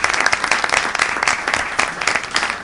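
An audience at a Hindi comic poetry gathering claps in a dense, loud, continuous burst of applause lasting a few seconds.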